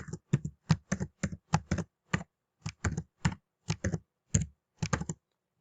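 Someone types a username and password on a computer keyboard, producing short bursts of crisp, close key clicks with brief pauses between them.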